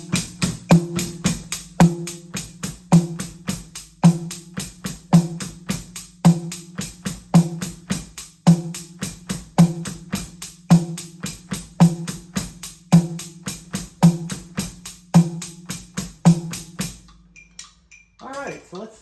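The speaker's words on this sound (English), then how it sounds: "The second variation adds a beat on the end of 4 in the bass drum." A drum kit keeps a steady rock pattern whose bass drum falls on 1, 3, the and of 3 and the and of 4, with evenly ticking cymbals on top, played loud and repeated for over fifteen seconds before ending.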